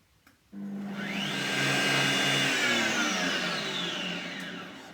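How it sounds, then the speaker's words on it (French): A food processor grinds sugar into icing sugar, starting abruptly after a brief click and holding a loud, steady motor whine with a rising pitch that then levels off. "Donc ici, pendant 20 secondes, on va mixer le sucre pour en faire du sucre glace."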